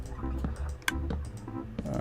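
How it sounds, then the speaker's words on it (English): Minecraft redstone hoppers and droppers moving items upward produce a quick series of soft, close clicks and ticks in an irregular rhythm, with faint voice beneath. "you can hear more clicking off there"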